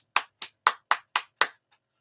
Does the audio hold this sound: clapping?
yes